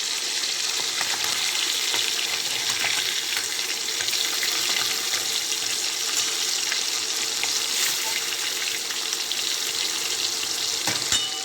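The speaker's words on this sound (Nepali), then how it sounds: "माछा हेर्नुहोस् त कस्तो मजाले फ्राई हुँदैछ।" Marinated fish pieces frying in hot oil in a pan for a Nepali fish curry give off a loud, dense, continuous crackling sizzle, close up and without talk.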